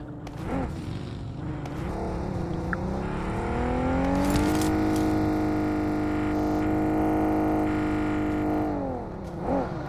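A video game car engine drones and revs steadily, pitch rising and then holding high in a sustained whine, loud and close with no talking.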